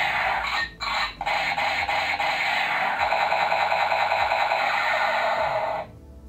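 Battery-powered toy grenade pistol blaster gives off an electronic trigger sound effect, a buzzy, crackling tone from a speaker in the handle that runs for about six seconds, broken twice by short dropouts near the start, then stops.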